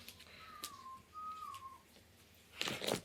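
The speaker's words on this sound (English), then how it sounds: "Can you hear him whistling?" A person whistles a soft, wavering two-part tune, fairly quiet and alone, followed by a few rustling noises.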